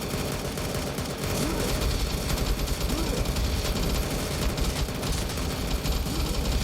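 Gunfire rattles in the Roblox game The Resistance Tycoon, with rapid repeated shots running continuously over a busy game background.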